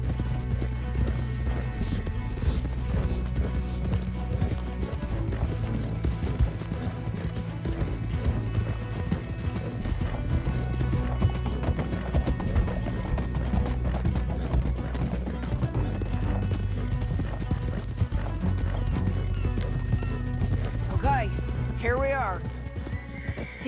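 Horses gallop in Red Dead Redemption 2 with a continuous, close drumming of hooves and occasional neighs and whinnies over the running rhythm, accompanied by faint voices.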